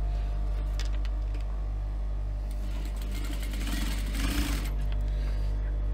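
A sewing machine stitching down a folded fabric strip close to the fold gives off a steady mechanical hum with a continuous low drone throughout and a brief louder whir near the end.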